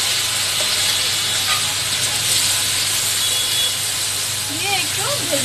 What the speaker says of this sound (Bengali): আমি অল্প একটু জিরা ফোড়ন দেব